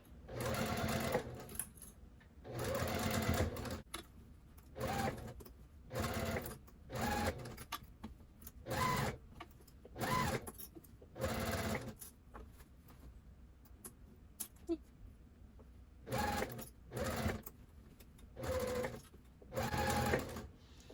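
A sewing machine runs a quarter-inch seam around a fabric bin, starting with a backstitch, in repeated bursts of rapid stitching separated by short pauses, close and fairly loud with no talking.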